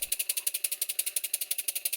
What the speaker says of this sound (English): the engine ran very well. It's only running on one side of course, so it's dragging the other one with it